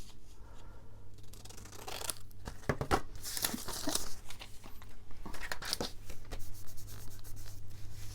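Paper being trimmed for a sepia postcard flip booklet in a junk journal, with close, crisp snips and rustling cuts bunched in bursts over a steady low background hum.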